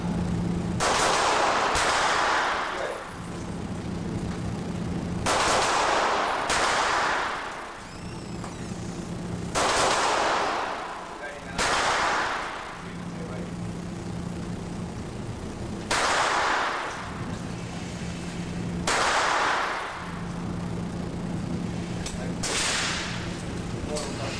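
High Point 9mm handgun fired at a target on an outdoor range: about half a dozen loud, sharp shots a few seconds apart, each with a long ringing decay, under a low steady hum.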